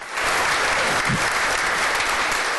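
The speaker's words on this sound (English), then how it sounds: "Let's give Samuel a round of applause." An indoor audience at a city council meeting claps in a sustained round of applause that swells quickly and carries on evenly throughout.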